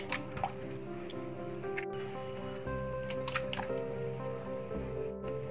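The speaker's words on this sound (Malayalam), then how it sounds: "ആദ്യമായിട്ട് രണ്ട് മുട്ടയാണ് ഒരു ബോളിലേക്ക് പൊട്ടിച്ച് ഒഴിക്കുന്നുണ്ട്" Two eggs are cracked and tipped into a bowl, with soft wet drips, squishy plops and a few small taps against the bowl, quiet and close with no talking.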